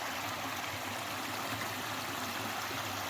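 A mountain stream flowing down from the peak in the Skole Beskids produces an even, continuous rushing hiss of water, steady and unbroken, with no voices present.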